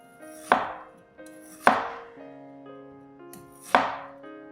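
Garlic cloves and ginger are roughly chopped with a knife on a board, three distinct sharp thuds spaced about a second apart, close and alone, each with a brief ringing decay over soft background music.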